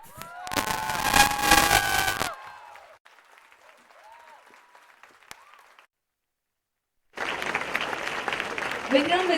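Festival audience at a panel discussion bursts into loud applause and cheering for a panelist. The roar lasts about two seconds, gives way to a quiet gap, then a second swell of clapping returns.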